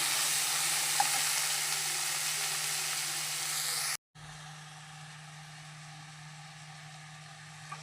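Tomatoes and onions sauté in a pan for a prawn and drumstick curry, a steady dense sizzle with a low constant hum beneath, broken by a brief silent gap midway before the frying resumes slightly softer.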